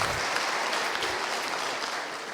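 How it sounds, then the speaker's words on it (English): Conference audience applauding at a Bitcoin event, steady dense clapping from a full room, loud and continuous for a couple of seconds with no talk over it. "So a round of applause for them as well."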